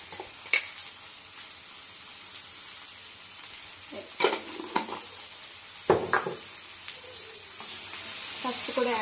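Ginger-garlic paste and turmeric cook in a little oil in a pan, giving a soft continuous sizzle broken by several sharp spatula knocks and scrapes, with the frying growing louder toward the end.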